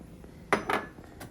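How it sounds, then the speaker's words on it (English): Chunks of fruit and vegetables are dropped into a NutriBullet Smart Touch blender cup. Two quick hollow clunks are followed by a fainter knock, close and brief with no talk. "I just throw lots of fruit in there, some veggies"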